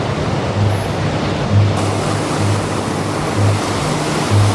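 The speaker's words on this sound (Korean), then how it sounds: "파도 소리가 워낙 크게 들려서 사이트에서 발생하는 소음이 묻히는 편이에요" Loud ocean surf rolls onto the shore beside a winter seaside campsite in Korea. A dense, continuous roar swells and eases in slow waves, with no voices.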